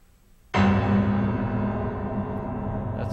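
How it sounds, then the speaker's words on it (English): Piano struck with a sudden, very loud chord that blooms into a sustained, dense electronic wash from live processing, the sound holding steady after a quiet lead-in. "the piano plays a chord, a very loud chord, right in the beginning"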